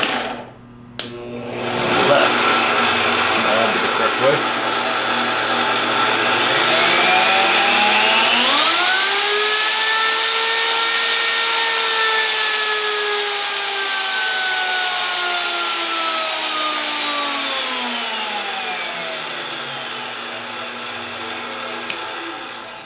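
A VEVOR D8840 variable-speed magnetic drill with a sliding head, its motor starting up with a loud whine that rises and steadies, then slowly winds down over about twenty seconds, heard close with no talk.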